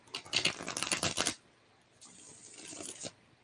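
A new Urban Tarot deck being shuffled by hand, a brisk flurry of riffling card snaps followed by a quieter, softer rustle, close and with no voices.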